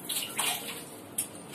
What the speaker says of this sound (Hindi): रुक पानी डालती हूँ इसमें